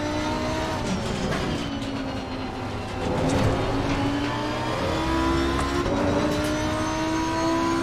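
Race car engine held in first gear in Assetto Corsa Competizione at Brands Hatch: a loud, continuous high-revving whine with rising and falling pitch, other cars' engines mixed in, no speech.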